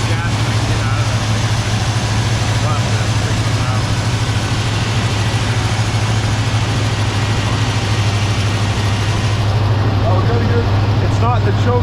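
A 1978 Ford Bronco engine with the choke unhooked runs in a steady, loud low rumble, idling close by without a break.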